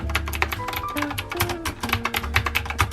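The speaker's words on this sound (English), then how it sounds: "So I really like the way that the keys sound." Rapid clacky keystrokes on a mechanical keyboard, a busy irregular patter of crisp taps at close range, with no talking.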